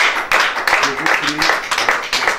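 A church congregation clapping to acclaim Jesus during a prayer service, rhythmic group claps repeating steadily with voices talking over them.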